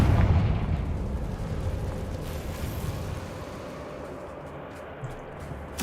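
Confringo fire spell explosion in Hogwarts Legacy, a deep rumbling blast that decays slowly into a low roar over several seconds, with a small sharp pop at the end.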